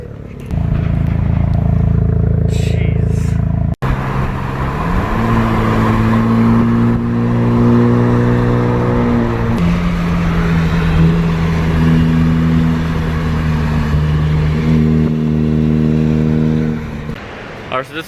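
A 10th-gen Honda Civic 1.5L turbo with a Corvette quad exhaust drives past and accelerates, its engine droning steadily with shifting pitch through gear changes, while people talk over it.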